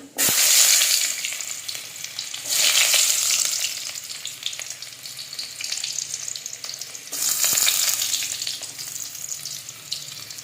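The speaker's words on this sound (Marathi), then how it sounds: "बघू शकता तेल किती गरम झालेलं आहे आधी कांदा टाकूया" Chopped onion dropped into very hot oil tempered with mustard seeds: loud, close, hissing sizzles that surge in three waves, then ease into a steady crackle between bursts, with no voices.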